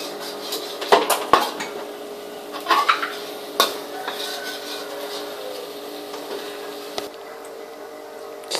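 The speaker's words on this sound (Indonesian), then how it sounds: "aduk-aduk hingga rata." A utensil scrapes and knocks against a pan as bruised lemongrass stalks and galangal are stirred for squid stuffed with tofu in yellow spice, giving irregular clinks over a steady low kitchen hum.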